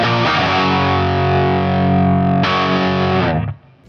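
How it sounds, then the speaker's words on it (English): A Gibson Les Paul Standard electric guitar through heavy distortion rings out a thick, loud chord, then is struck again partway through and sustains before being cut off abruptly. "This is a very solid Les Paul Standard."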